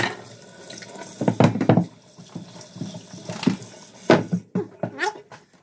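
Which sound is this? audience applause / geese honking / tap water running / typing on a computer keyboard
tap water running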